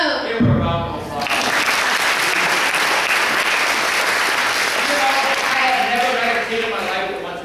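Sustained applause from a school audience of children, dense and loud, filling the space after a brief voice at the start and continuing steadily to the end.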